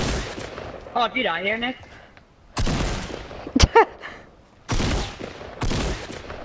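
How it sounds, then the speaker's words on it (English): Video game gunfight, hunting rifle against SMG: sharp bursts of gunfire in separate clusters, loud and close, with a voice speaking briefly in between. "I'm having a hunting rifle fight with somebody with an SMG"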